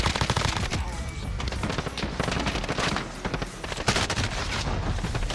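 An MG34 machine gun in the Warzone video game fires in continuous, dense rattling bursts, loud and close over mixed battle noise.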